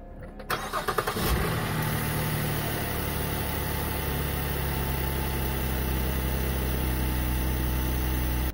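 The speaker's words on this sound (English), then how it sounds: "Hang on, you're going to hear it start." A car engine, jump-started from an EcoFlow 720 Pro power station, cranks briefly, catches and starts, then settles into a steady, close idle that runs on without talk.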